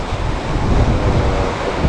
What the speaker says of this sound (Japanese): 向かい風で ちょっとやっぱ波が立ってて海も濁ってるもんで、